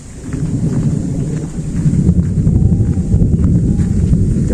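Thunder rolls across the sky in a continuous low rumble, growing louder partway through and holding steady, with a constant wash of noise beneath it and no speech.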